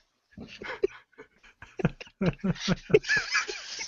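A dog pants in quick, uneven bursts of breathy huffs, close by and fairly loud, with a few snorting, snicker-like breaths mixed in.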